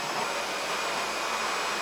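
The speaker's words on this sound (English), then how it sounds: "After using this as a wet dry vacuum to mop my living room and kitchen" Tineco Floor One S6 wet dry vacuum running steadily, a loud, even whirring hiss with no breaks and no voices.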